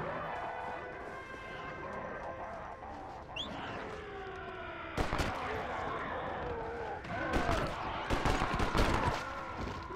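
Gunfire rings out in a Red Dead Redemption: Undead Nightmare zombie-western game, sharp shots bursting in quick clusters over a steady background of music and game ambience, with someone talking during the shooting.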